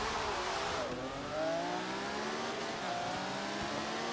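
A Maserati MC12 in Forza Horizon 3 pulls away gently on part throttle, its engine note climbing and easing through a steady rising whine with a smooth, continuous mechanical drone.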